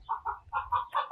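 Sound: chickens clucking on a farm

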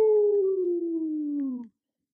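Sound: child imitating a wolf howl in kids yoga

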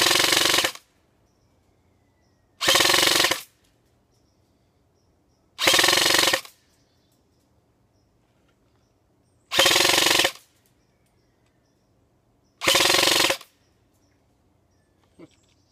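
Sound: G&G CombatMachine airsoft gun firing BBs in full auto

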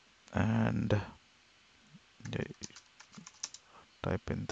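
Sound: typing a command on a computer keyboard

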